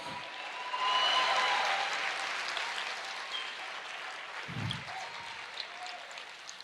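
A church congregation applauds during a sermon, a soft, distant wash of clapping that swells briefly and then fades, with a low thump partway through.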